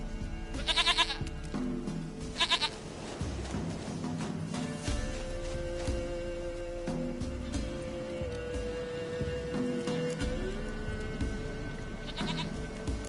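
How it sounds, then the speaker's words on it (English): Goat bleats in The Witcher 3, with a quavering bleat near the start and another around 2.5 s, then a final bleat near the end over a steady game soundscape. "Goat of mine, dearest, sweetest goat."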